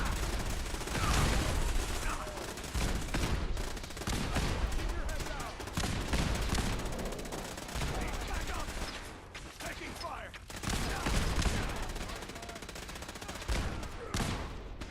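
Gunfire in Fallout 4 played on very hard difficulty, with dense bursts of shots and rapid fusillades running throughout amid game noise, loud and continuous with brief lulls.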